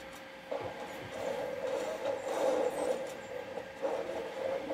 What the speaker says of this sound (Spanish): suena caleta el ventilador